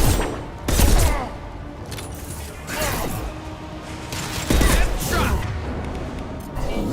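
Gunfire from the Mass Effect 2 Legendary Edition video game, with loud bursts of shots near the start and again midway through a steady din of combat noise.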